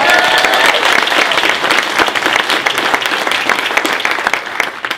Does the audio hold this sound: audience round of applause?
yes